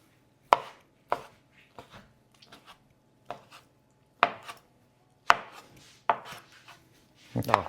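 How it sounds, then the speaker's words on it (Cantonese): A knife dices soaked dried shiitake mushrooms on a cutting board in sharp, irregular chops, sometimes a short quick run of strokes, close up in an otherwise quiet kitchen. "咁而家咧就將啲冬菇嘅丁咧切咗去"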